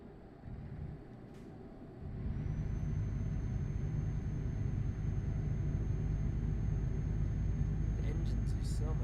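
A simulated heavy truck engine in Euro Truck Simulator 2 idles and then rises into a steady, low rumbling drone after about two seconds, holding constant with a faint high whine and a few short clicks near the end.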